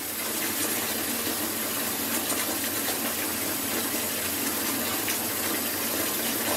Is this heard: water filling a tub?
yes